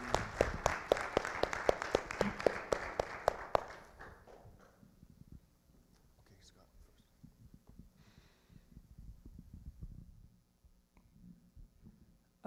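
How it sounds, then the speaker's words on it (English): Applause from a lecture audience, a brisk burst of many hands that lasts a few seconds and then fades out, leaving quiet room tone with faint murmurs. "She does need to be applauded."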